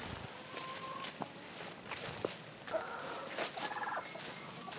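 A turkey hen gobbles and walks about among chickens, with scattered short calls and light footsteps over a steady outdoor background.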